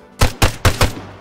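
Four evenly spaced gunshots from a rifle in the military shooter game Arma 3, fired in a quick steady rhythm during a King of the Hill match in Takistan; sharp, loud and close, with no talk over them.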